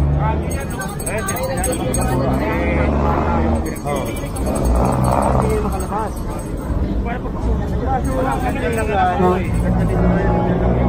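Busy road traffic in a crowded street, with cars and buses passing close and steady engine noise throughout, while people talk over the constant rumble.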